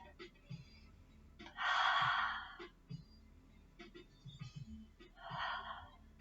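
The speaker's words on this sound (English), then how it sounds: "Nice deep breath." Deep breaths taken while holding a yoga pose: two soft, breathy airflows, the first longer and fuller, the second shorter and fainter, close and quiet over a low hum.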